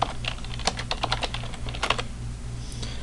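Typing on a computer keyboard at a Bash terminal, a steady run of close, crisp key clicks that thins out near the end over a low background hum.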